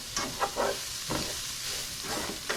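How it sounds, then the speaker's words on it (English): Bacon sizzles steadily in a non-stick pan over moderate heat while being stirred, with a close, continuous frying hiss broken by soft scraping stir strokes. "And then just keep giving that a stir. You got the bacon in there."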